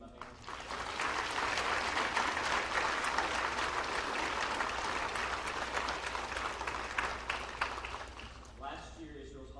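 Audience applauding steadily at a graduation ceremony, a dense sustained wash of clapping that fades slightly near the end as a voice begins.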